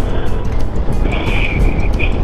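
Strong wind buffets an open hilltop in Libmanan's Bulalacao Hills, a dense broadband roar that stays loud and continuous, with a vehicle drone and a faint high whine underneath.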